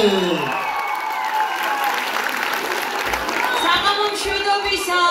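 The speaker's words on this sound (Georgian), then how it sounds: "თქვენი ძალიან მაგარი აპლოდისმენტების ფონზე" A live audience at a Georgian stage show applauds to welcome the host, with sustained clapping, light crowd cheering and music, while a voice speaks over it.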